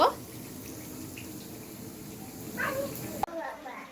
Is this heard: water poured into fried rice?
yes